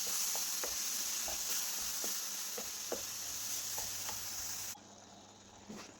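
Mango puree is stirred into fried coconut in a pan, giving a soft sizzle with regular light scraping taps of a spoon, close by, before the background abruptly drops quieter near the end.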